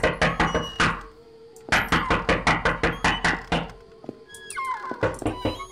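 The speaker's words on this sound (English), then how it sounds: "you got some hard knuckles for you to be knocking that loud" In a horror video game, a door is pounded with loud, rapid knocks that come in two long bursts. A third, shorter burst follows after a pause, with a few faint tonal game sounds between them.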